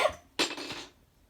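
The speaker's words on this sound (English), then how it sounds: "I need to cough" A single short cough, close and fairly quiet, with a sharp onset that fades within half a second, then near silence.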